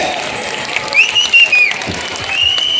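Children applaud at a school centenary celebration, a continuous crowd of clapping hands with a few shrill whistles or cheers over the top, fairly loud and close.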